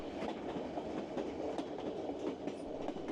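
The White Pass and Yukon Route train rolls along its rails in Alaska, with a steady, rumbling clickety-clack and rhythmic wheel knocks heard from on board. No one speaks.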